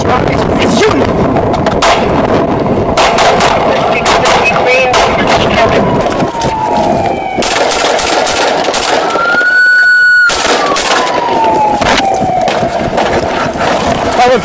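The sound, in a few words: gunshots fired in a Walmart parking lot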